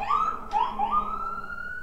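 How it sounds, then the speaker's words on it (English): A siren wails from outside, rising and sweeping in pitch over a couple of seconds, moderately loud and slightly distant. "some sirens going off outside"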